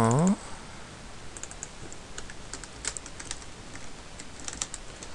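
Fast keystrokes click on a computer keyboard in a continuous, uneven patter at moderate volume, after a short burst of voice at the very start.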